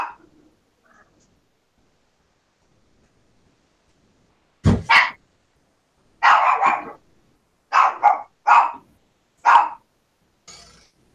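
Waffles the dog barks in short, sharp bursts, about seven loud nearby barks spaced irregularly between stretches of quiet.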